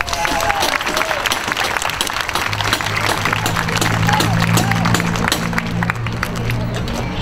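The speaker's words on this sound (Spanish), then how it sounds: "¡Aplausos para el número 2!" At a live contest, an audience applauds loudly and steadily for the second contestant, with a crowd murmuring beneath the clapping throughout.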